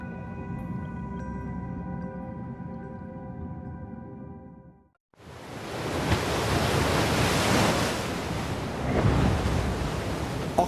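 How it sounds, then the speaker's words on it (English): Ocean waves churn on the surface in a broad continuous roaring wash that swells and surges, preceded by a steady low tonal drone that cuts off briefly. "Oxygen gets mixed into the ocean by the churning action of waves, currents, and tides on the surface."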